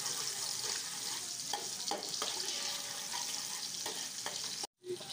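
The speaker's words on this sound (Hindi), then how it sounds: "घी गर्म हो गया है, प्याज ऐड कर देते हैं।" Onions fry in hot ghee with a soft, continuous sizzle and occasional light stirring clicks, fairly quiet throughout, ending in a brief silent gap.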